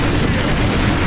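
Grenade blasts in the video game Warhammer 40k: Space Marine give a brief, loud, dense roar that fills the whole moment without pause.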